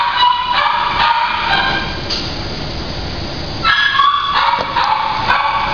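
A dog barks loudly and close by in short bursts, with a quieter gap between the barking spells.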